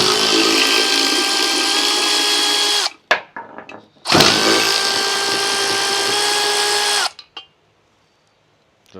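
Power tool spinning off two bracket bolts on a 2018 Ram 2500, two loud close bursts of high whirring, each about three seconds long, separated by a short pause and ending in near silence.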